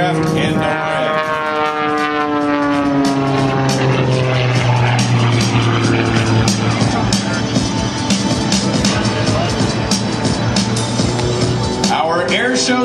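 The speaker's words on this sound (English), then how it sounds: "Right now, Eric using that giant three-bladed propeller and utilizing the gyroscopic properties of that to tumble this aircraft into orbit." Aerobatic airplane with a giant three-bladed propeller tumbling at an air show, a loud sustained engine and propeller drone with sweeping pitch changes, continuous and close.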